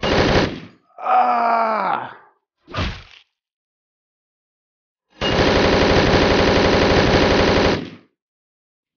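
Gunfire in the top-down video game Hotline Miami 2: after a short shout and a groan, a loud, dense automatic burst rattles steadily for about three seconds, then cuts off into silence.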